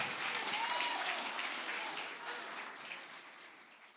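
Church congregation applauding together, a dense wash of clapping that starts loud and slowly thins and fades over a few seconds.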